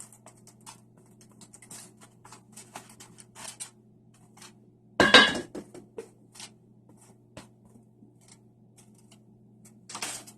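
Triggerfish cake ingredients are mixed by hand in a bowl, giving soft, faint, irregular patting and squishing sounds with one louder burst of scraping midway, no speech.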